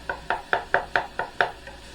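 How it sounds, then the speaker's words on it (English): A wooden spatula chops egg in a pan with seven or eight crisp, evenly spaced taps, each a short scraping knock close by, with no talking. "I'm going to chop it up real good."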